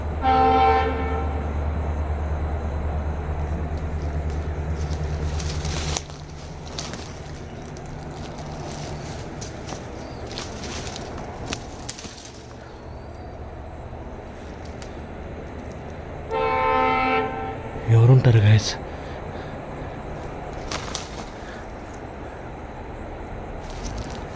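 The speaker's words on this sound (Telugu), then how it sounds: "ఆ పక్క ట్రైన్ ట్రాక్ ఉంది ఈ ట్రైన్ సౌండ్" A train rumbles steadily nearby, sounding a long horn at the start and again later, with clanking and a brief loud bump near the end.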